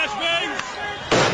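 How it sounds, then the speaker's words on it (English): A police flashbang grenade goes off at a protest in Oakland, a single sharp, fairly distant bang near the end of a short stretch of crowd noise and voices. "They're using flashbangs."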